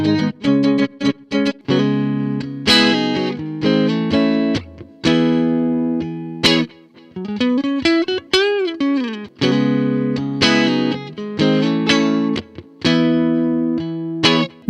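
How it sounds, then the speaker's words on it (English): Electric guitar played through a Fender Vibro King amp simulator plugin with the fat tone switched on: loud, distorted chords and sustained notes with a bending lead phrase in the middle, no talking. "let's try this Fender Vibro King and let's just turn the fat tone on"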